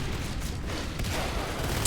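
Dense, continuous gunfire bursts from a shotgun in the game Natural Selection 2, loud and close, with broadband blasts filling the whole short stretch and no pause between them.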